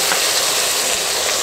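Onion, ginger and garlic paste sizzles in hot oil with panch phoron for a prawn and pointed gourd curry: a steady, close, loud hiss and crackle that holds without a break.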